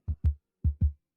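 Heartbeat sound effect of a racing heart: two quick paired lub-dub thumps, a short pause, then two more, deep, close and alone with no talk.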